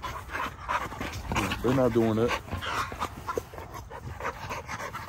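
XL American Bully dogs pant close by, with a brief whimper-like vocal sound, heard under someone talking throughout.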